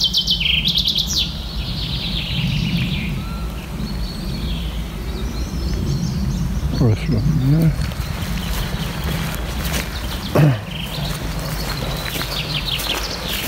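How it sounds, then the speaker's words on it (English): Birds singing outdoors by a muddy path with water-filled ditches: bright chirps and song, clearest at the start and scattered later, over a constant low outdoor rumble. "Birds are singing well again."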